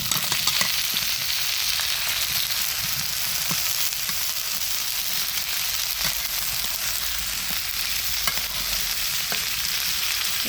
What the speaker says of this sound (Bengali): এই যে আলু, কাঁঠালের বিচি আর ডাঁটা একসঙ্গে দিয়ে দিলাম।